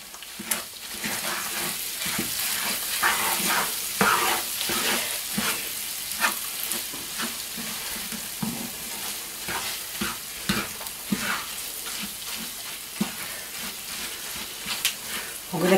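Moussaka filling being stirred in a hot pan, steady loud sizzle with repeated scraping and clacking strokes of a utensil at an irregular pace, close up, continuing for over fifteen seconds.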